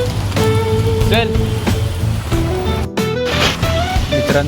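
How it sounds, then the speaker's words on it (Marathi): Heavy rain pours outdoors near Andheri station in Mumbai during the monsoon, a dense steady hiss under crowd noise and traffic, with voices and a few horn-like tones mixed in. "तुम्ही बघू शकता सकाळी जसा पाऊस पडत होता जोरात, तसा आता परत सुरुवात झाली."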